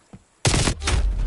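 A heavy gun in Call of Duty opens up with a sudden loud blast, a brief pause and then another sustained roaring burst of rapid shots, close and dominant.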